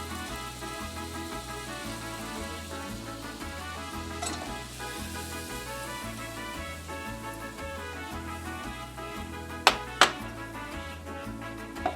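Animal fat sizzles in a hot pot with a continuous soft crackling hiss beneath steady rhythmic background music, with a few sharp clicks near the end.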